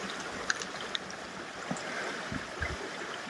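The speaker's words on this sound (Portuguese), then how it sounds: "estamos chegando na Cachoeira do Fundão" Steady rushing water of the Cachoeira do Fundão waterfall flows continuously with small splashes and gurgles, a close, even wash of sound.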